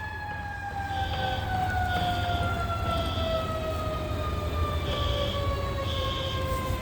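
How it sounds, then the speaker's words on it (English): Fire truck sirens wail from a distance, a steady rising and falling howl sustained under constant background noise as the emergency vehicles approach. "I can hear the sirens."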